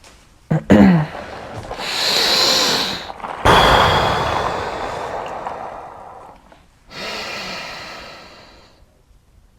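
Heavy, forceful breathing during a cold-exposure session: a sharp snort, then long hissing inhales and exhales in uneven bursts, close and loud, with pauses between.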